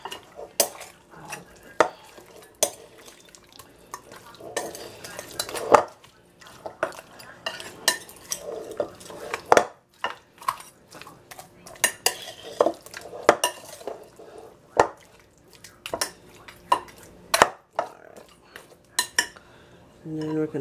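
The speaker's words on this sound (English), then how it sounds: "Now you're going to stir it up, mix it up, because you're going to let these marinate for a few minutes" Cutlery clinks and scrapes against a bowl as pork chops are stirred through a marinade, a busy run of small metallic taps and knocks close up, with no voices.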